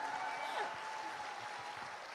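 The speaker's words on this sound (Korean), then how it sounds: "Berikan tepuk tangannya." Faint, steady audience applause at a corporate vision presentation keeps up for about two seconds, a soft, even patter of many hands heard from a distance.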